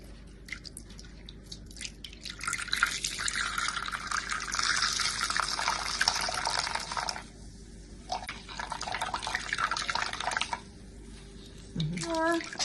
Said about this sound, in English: Now we're going to extract the milk.